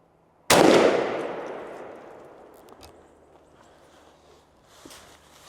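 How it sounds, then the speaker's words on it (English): A single close, loud blast from a turkey shotgun loaded with TSS number 9 shot through a Jebs 560 constriction choke, sharp onset followed by a long decaying rumble, with faint footsteps and shuffling after. "this is the Jebs 560 Constriction TSS number 9. Let's see what we get"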